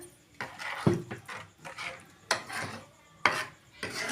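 A utensil scrapes and stirs through thick paneer masala gravy in a pan, several strokes in an uneven rhythm, close by and with no talking.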